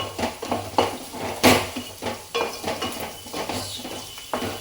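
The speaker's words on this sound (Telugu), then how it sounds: "కొత్తిమీర వేసుకొని ఒకసారి కలుపుకొని" A spoon stirs okra and green chilli curry with coriander in a pan, making repeated scraping and clinking strokes in an uneven rhythm over a faint steady hum, with one louder clank partway through.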